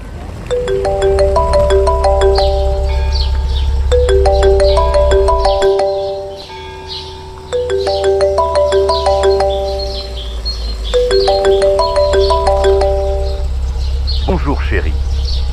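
A melodic electronic phone ringtone repeats its short tune several times, loud and close, with a brief pause between rounds and faint background noise underneath.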